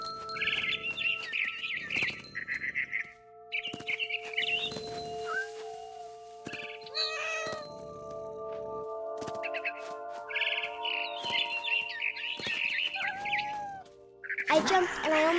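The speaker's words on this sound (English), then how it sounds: "I heard chirping outside my window. It was a barn swallow going back to her nest." Repeated bright barn swallow chirps in short bursts in the video game What Remains of Edith Finch, mixed with game-like tones and sound effects, fairly close and steady throughout.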